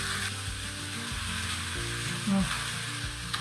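Chicken frying in a pan gives a constant close sizzle with occasional stirring clatter and a brief mid-pitched scrape, heard alone without talk.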